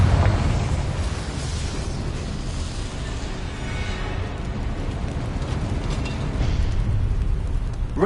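A Confringo fire spell bursts with a sustained, loud roaring explosion in Hogwarts Legacy, a dense rumbling blast that fills the whole stretch without pause and with no talking.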